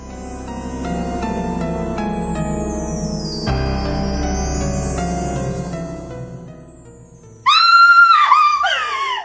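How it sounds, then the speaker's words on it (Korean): A sharp, wavering scream rings out near the end of an audiobook of an O. Henry story, loud and close, following several seconds of swelling sustained music. "갑자기 날카로운 비명이 들리고 대소동이 벌어졌다"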